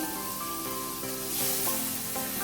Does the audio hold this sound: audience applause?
no